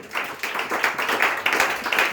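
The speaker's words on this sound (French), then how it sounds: "On acclame le Seigneur une fois de plus" A church congregation claps together in praise, a lively steady burst of many hands clapping in a somewhat rhythmic pattern, fairly close and with no voices over it.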